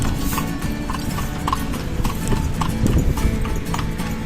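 Hooves of a horse pulling a kalesa clip-clop steadily and close in a rhythmic trot, with street and vehicle noise around it.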